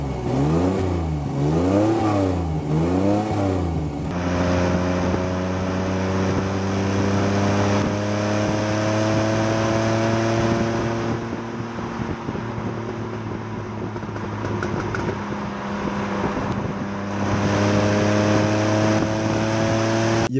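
A Citroën SM engine rises and falls in several quick revs at first, then settles into a steady, close running drone with clear tonal hum that swells slightly later on, with no voices over it.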